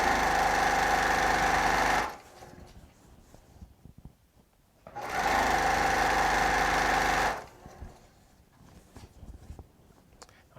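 A Baby Lock Accomplish sewing machine runs at high speed while strip piecing, in two loud, steady bursts of about two seconds each, separated by quieter pauses with faint handling noises.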